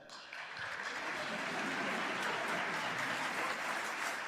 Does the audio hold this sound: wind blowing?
no